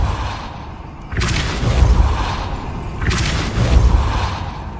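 The Depulso spell cast in Hogwarts Legacy lands as two loud whooshing blasts, each a sudden broad burst with a deep booming thump, sounding about two seconds apart.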